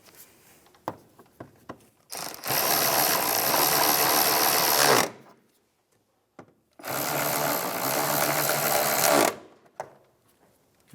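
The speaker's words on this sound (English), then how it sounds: "Go ahead and tighten down your 4, or in our case 2, 8mm bolts." Two long bursts of rapid buzzing from a power ratchet or driver tightening the 8mm air box bolts on a 2007-2013 Acura MDX, close and loud, with small clicks and handling noises between them.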